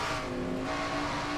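A NASCAR stock car races at high speed in a racing video game, its engine a sustained droning roar with a steady pitch through the brief stretch, with no voices.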